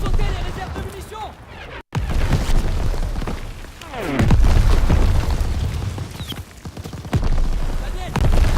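Deep booms and rumbling blasts from ammunition reserves blowing up in the video game Call of Duty WWII, loud and layered with battle noise and crackling debris, with voices shouting in between.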